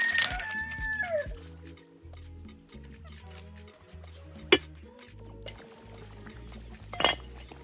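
A rooster crows near the start on an off-grid Jamaican homestead, its call fading under close clatter of pots, utensils and stirring during outdoor cooking of plantain porridge.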